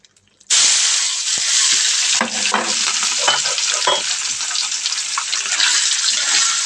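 Spiced fish frying in a hot pan, a sudden loud burst of bright sizzling hiss that continues steadily, with scraping and stirring clatters of a utensil throughout.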